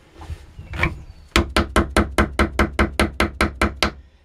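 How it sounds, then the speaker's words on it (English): Wooden mallet strikes a rammer to pack black powder into a spolette tube, a few softer taps followed by a rapid, even run of about a dozen sharp, close knocks. "never letting go of the mallet, never letting go of the rammer creates a pretty efficient, rapid ramming of the spolette."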